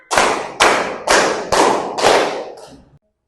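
Five loud group claps from a class of junior high pupils at an Islamic school ring out in a steady, evenly spaced rhythm during an ice-breaking counting game, each one crisp and close with a short decay, alone and without talk.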